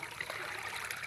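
Irrigation water flowing through a farm water pump channel at night, a steady close rushing and trickling stream with no talk.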